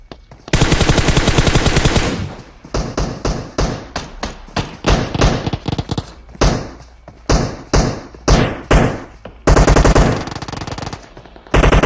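Rapid automatic gunfire from the mobile game PUBG Mobile, a long sustained burst followed by a string of short, punchy bursts and a final loud sustained volley, close and loud with no talking.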